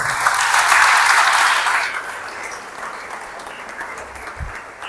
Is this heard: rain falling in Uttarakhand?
no